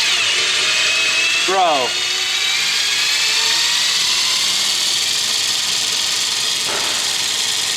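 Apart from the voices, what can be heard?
power tool loosening car center lock wheel nut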